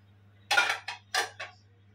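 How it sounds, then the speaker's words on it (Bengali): A lid is lifted off a cooking pot while making pakan pitha, giving two pairs of close, crisp metallic clinks over a faint steady hum. "5 মিনিট পরে আমি ঢাকনাটা উঠাচ্ছি"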